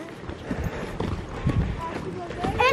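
Horse hooves clip-clop at a steady walking pace, with people talking over them and a brief high-pitched sound near the end.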